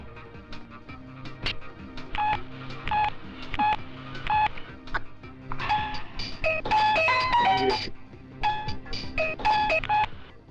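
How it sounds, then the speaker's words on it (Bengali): A telephone is dialed as a film sound effect, with a long run of short keypad beeps in uneven bursts, some clustered quickly together, over a low background rumble and no talk. "বন্ধু ফোন লাগাও।"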